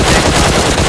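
Gunfire in a competitive mobile shooter game scrim, heard as loud, dense, continuous rapid fire.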